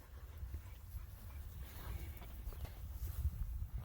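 An American Bully dog whimpers softly and shuffles about nearby, with faint panting and footsteps over a low, rumbling background.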